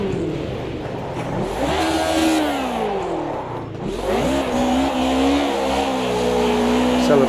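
A race car in the Automobilista 2 racing game spins celebratory donuts on a wet track. The engine revs hard and close, its pitch rising and falling continuously as the car circles.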